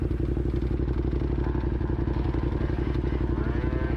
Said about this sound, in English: You see kids in ATVs and little dirt bikes and God knows what, electric bikes